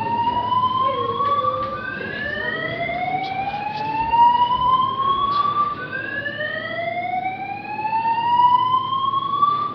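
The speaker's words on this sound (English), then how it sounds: "the alarm's going off" An AMPAC fire alarm system sounds in the Easterfield building at VicUni, its electronic tone sweeping upward again and again in overlapping whoops, steady and fairly loud against a murmuring indoor background.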